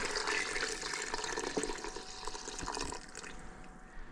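Water poured into a pot for orange marmalade, a steady close splashing and trickling pour that runs for several seconds and eases off toward the end.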